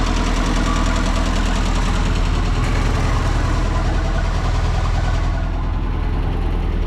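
Engine of an Oliver tractor running steadily, a loud continuous low rumble with a dense knocking texture that holds throughout, no voices.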